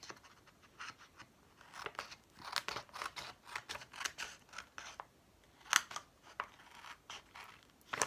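Close, quiet cutting of a vinyl design with scissors, a steady run of short snips and crinkles from the handled vinyl sheet, with no voices.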